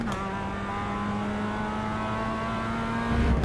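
A race car engine in the iRacing sim holds a steady high whine under load as it accelerates out of a corner, sustained and loud throughout with a deeper rumble swelling at the end.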